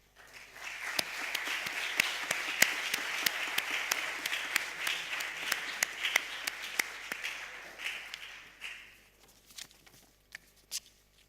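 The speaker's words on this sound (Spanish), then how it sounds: "Y ahora quiero un gran aplauso para Isidro Fainé." Audience applause at a conference-style event fills the hall with dense, steady clapping for several seconds, then thins to a few scattered, fading claps near the end.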